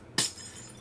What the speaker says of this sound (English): these just sound like glass when you break them